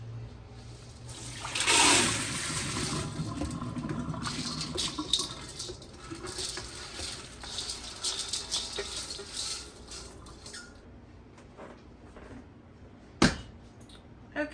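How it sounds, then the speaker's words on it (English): Running water splashes steadily over dried beans being rinsed, with a louder gush of flow early on, then a continuous patter and trickle. A sharp clatter comes near the end. "the water is a little bit murky, so I'll probably do 1 or 2 more rinses."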